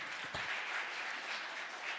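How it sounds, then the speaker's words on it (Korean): Audience applause at a Korean guardianship conference special session, a steady wash of clapping throughout the short stretch at moderate distance with no talk over it. "큰 박수로 환영해 주시기 바랍니다"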